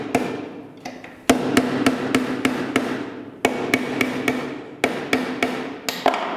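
Hammer blows on a metal rod clamped in a bench vise, sharp ringing strikes coming in quick bursts of several hits with short pauses between, close and loud with no talking.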